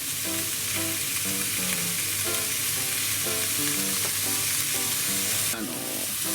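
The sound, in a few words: rolled pork belly searing over high heat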